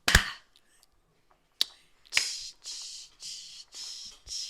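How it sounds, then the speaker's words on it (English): Several people attempt a synchronized group clap after a count-in: a loud opening snap-like clap, a lone clap, then a sharp clap followed by five short bursts of clapping in a steady rhythm, noticeably ragged and off sync, close by. "we're gonna do the clap"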